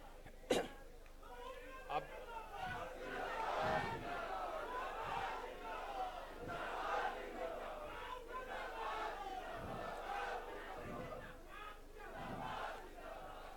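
A crowd at a Constitution honour conference rally in Ranchi cheers and shouts to welcome a speaker, producing a sustained noisy swell of voices with bursts of shouting throughout.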